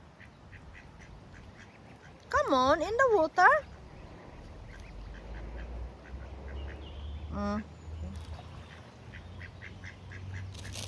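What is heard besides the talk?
ducks quacking on water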